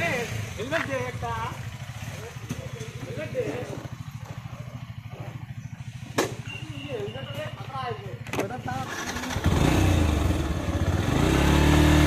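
A Yamaha FZ-S V3 motorcycle hums steadily on the road at a smooth, even engine note, with a rider talking over it and wind rumble building loudly near the end.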